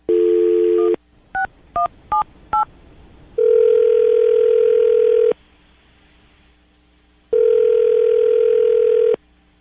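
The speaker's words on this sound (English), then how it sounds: "gonna call her right now, get her on the phone" A telephone call goes through: a dial tone, then a quick run of touch-tone key beeps, followed by two long, loud ringback tones separated by silence.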